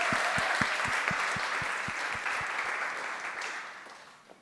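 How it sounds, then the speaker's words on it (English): An audience claps together in a steady round of applause at a community event, the dense patter staying fairly loud before gradually easing off over a few seconds. "let's just take a second to give them a round of applause"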